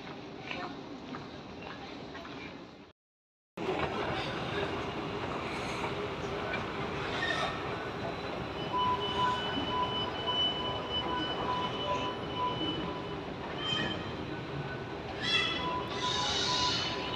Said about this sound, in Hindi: आ गया जी एक्सपो 2020 मेट्रो